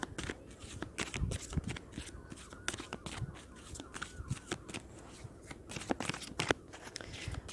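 Tarot cards being shuffled and drawn, a run of soft papery riffles, slides and light taps close by, with faint murmuring underneath.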